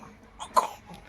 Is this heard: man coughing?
yes